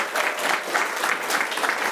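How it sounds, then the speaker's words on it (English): Audience applause at a school district board of trustees meeting, honoring a basketball team and cheerleading squad; steady, dense clapping from many hands fills the room at moderate loudness, with no talking. "So please give them a great big round of applause."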